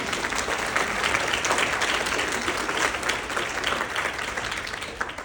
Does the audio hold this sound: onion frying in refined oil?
no